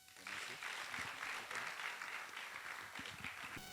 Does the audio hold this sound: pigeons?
no